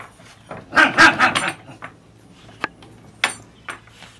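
A dog gives a quick burst of several close barks, followed by a few sharper isolated yips with quiet gaps between them.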